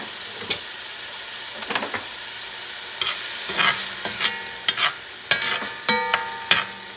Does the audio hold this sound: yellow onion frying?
yes